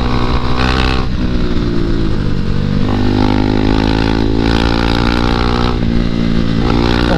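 A group of KTM 390 motorcycles races through corners, the engines a loud, close, unbroken drone that rises and falls as riders rev and shift, with no talking.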